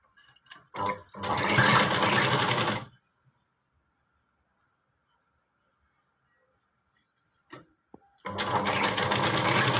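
Sewing machine stitching chudidar pant fabric in two loud, steady bursts of rapid running, separated by a long quiet pause with a few brief clicks and starts.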